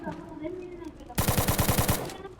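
A rapid burst of automatic gunfire in a multiplayer shooter video game, about eight evenly spaced loud shots in under a second, following a stretch of muffled voices and game sounds.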